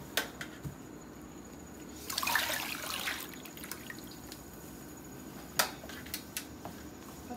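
Water pours into a yarn dye pot in a brief soft gush mid-way, with a few faint drips and clinks around it in an otherwise quiet room.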